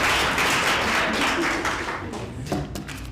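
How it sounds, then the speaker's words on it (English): Audience applause at a Multimedia University of Kenya event, a dense wash of clapping that gradually thins and fades over a few seconds with a few isolated louder claps near the end. "Please give her a round of applause."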